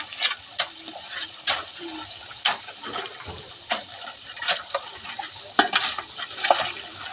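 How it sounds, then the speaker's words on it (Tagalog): Water hisses and splashes steadily from a leak in a rusted water pipe line, with irregular spurts and gurgles, fairly close. "Lakas pa ng tagas ito."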